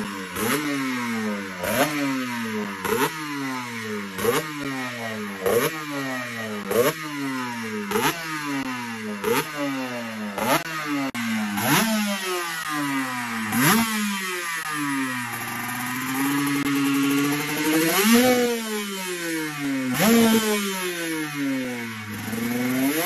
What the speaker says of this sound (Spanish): disfrutar del sonido de esta KTM RC 125